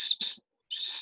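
Recorded cuckoo call played back during a birding session in southern Kruger, two bursts of clear, high whistled calling separated by a short silence, fairly loud and close.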